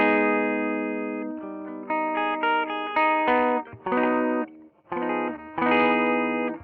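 Distorted electric guitar played through an STL AmpHub amp simulator with a mid-rangey amp tone, sustained chords and short phrases ringing with effects, loud and alone with brief gaps between bursts.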